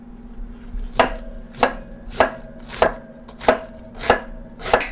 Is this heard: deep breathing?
no